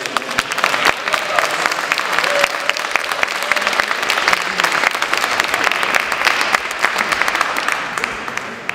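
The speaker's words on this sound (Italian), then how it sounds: "Facciamo un applauso a Mauro." An audience applauds a guest named Mauro at a comic-book event, steady dense clapping that fills the whole stretch at a close, even level with no voices standing out.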